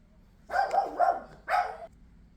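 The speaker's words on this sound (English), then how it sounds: "A crazy barking little doggy" A small 20-pound pit bull barks close by, a quick run of high yappy barks followed by one more after a brief pause.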